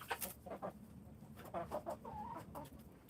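A hen clucking in short, soft bursts, a few murmuring clucks spaced irregularly over a quiet background, fairly close.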